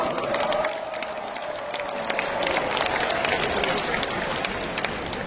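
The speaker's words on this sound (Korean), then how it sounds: "큰 격려의 박수를 부탁드립니다" A large crowd at a Democratic Party leadership convention claps and cheers, sustained applause of moderate level with scattered sharp claps and a faint voice or tone running underneath.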